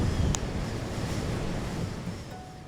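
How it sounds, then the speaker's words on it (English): Storm wind buffets the microphone while heavy surf breaks along the Mull coast, a loud continuous roar of waves and gusts with no voices. "Wind, rain and sea spray everywhere."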